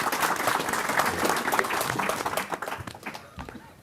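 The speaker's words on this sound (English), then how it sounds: "Can I have a round of applause for George O'Connor," Audience applause rises at a London investor show as a guest is welcomed. Dense clapping is moderately loud and sustained, then thins and fades into scattered claps near the end.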